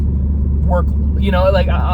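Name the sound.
car passing by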